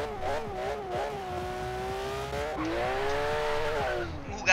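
A Porsche engine in the racing game Forza Horizon 3 revs high and steady, its whine climbing through gear changes with a brief tire squeal, loud and continuous, with a voice speaking over it.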